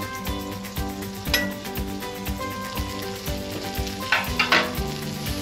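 Butter sizzles over broccoli on a Blackstone griddle, a steady crackling fry under repeated metallic scrapes and clinks of a spatula stirring and tossing the vegetables, fairly close.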